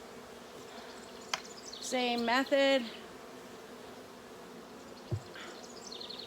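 Honey bees buzz around an open hive as its top lid is replaced, a soft steady drone under a brief stretch of talk.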